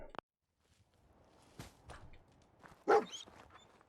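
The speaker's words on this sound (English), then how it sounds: "We've got a dog to save." A dog in the post-apocalyptic video game Fallout 4 gives a few sharp, isolated barks spaced over a few seconds, one louder and close, over faint background ambience with no talk.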